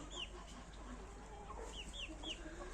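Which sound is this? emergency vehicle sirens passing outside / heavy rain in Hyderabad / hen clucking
hen clucking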